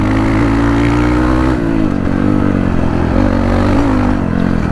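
A small-tyred motorcycle drones loudly and steadily while ridden hard in an informal two-bike race, its engine note holding a thick, even hum with a slight dip midway, close to the listener and without speech.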